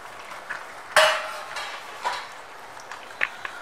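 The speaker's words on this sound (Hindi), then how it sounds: "यहाँ पे जो हमने मूंगफलियाँ ली थी वो मैं सारी की सारी इसमें डाल दूंगा, और डाल करके आप इसको मिक्स कर दें।" Peanuts are tipped into melted jaggery in a pan and stirred to make peanut chikki: a loud clatter of nuts hitting the metal, then scattered scraping and light clinks of the spoon against the pan.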